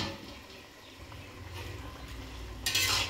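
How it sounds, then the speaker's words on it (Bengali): Fried fish and eggplant go into a simmering curry in a pan and get stirred, giving soft scraping and gentle bubbling that ends in a brighter sizzling burst. "ঝোলটা ফুটে গেছে, মাছ বেগুনগুলোকে একসাথে দিয়ে দিলাম।"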